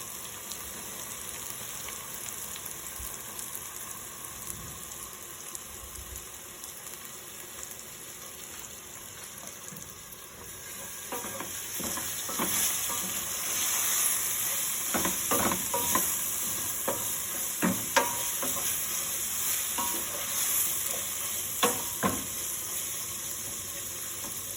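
Meat cooks in a pot for a Ghanaian red-red bean stew, with a soft sizzle that grows fuller halfway through and is marked by repeated scraping stirs and clinks, alone without talk.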